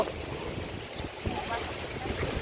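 Rough water churns and splashes around a boat amid steady wind noise buffeting the microphone.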